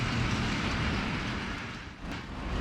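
A model train pulling a lit passenger car runs on a layout at a model train station display in Taylors, South Carolina, making a continuous rumbling clatter that dips briefly near the end.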